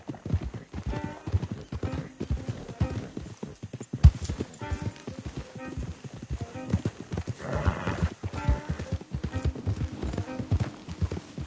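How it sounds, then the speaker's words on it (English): Horse hooves clopping steadily in Red Dead Redemption 2, several horses moving at a walk with an occasional whinny, close and clear over a busy game soundscape with faint talk. "Don't want the horses clopping around outside the window."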